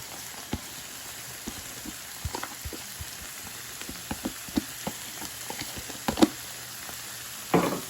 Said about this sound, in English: Let's go ahead and add our garlic